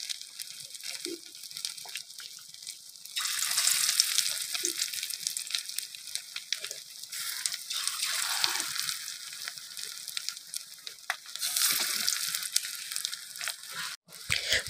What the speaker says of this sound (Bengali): তো চলো এক এক কইরা আমরা ডিমগুলারে বাইজা নিই